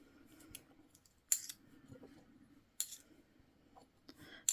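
Fabric being cut with sewing scissors, with three sharp snipping bursts standing out over a quiet, low background of handling noise.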